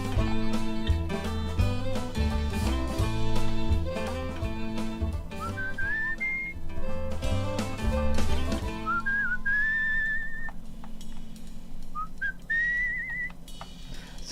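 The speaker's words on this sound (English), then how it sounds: "So I wonder what whistling is showing me here." Whistling in the video game Where the Water Tastes Like Wine, a melodic tune with sustained notes and rising slides that plays over layered game music for the whole stretch, prominent and without any talk.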